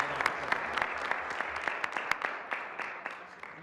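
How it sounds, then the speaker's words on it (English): Audience applause at a regular in-person meeting fills the room with dense, continuous clapping from many hands, steady and fairly loud, with a faint murmur of voices beneath and a few sharper claps standing out. "Round of applause for Allie and Jovi"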